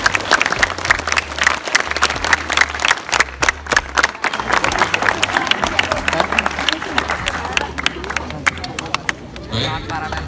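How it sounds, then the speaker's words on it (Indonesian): Students and staff at a junior high school assembly clap for high-achieving pupils, a crisp, busy patter of many hands that carries on throughout, with some murmured talk underneath. "Tepuk tangan untuk yang berprestasi"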